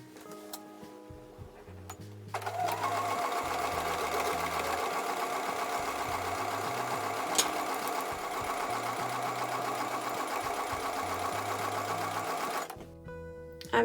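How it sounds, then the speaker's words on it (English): A sewing machine runs steadily while stitching the final seams of an 8-inch woven star quilt block, a fast continuous mechanical whir lasting about ten seconds after a quiet start, then stopping abruptly. "I'm going to go back over to the sewing machine and sew the final 2 seams of this block"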